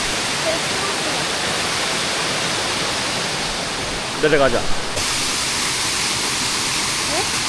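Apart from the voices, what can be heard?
rushing mountain stream water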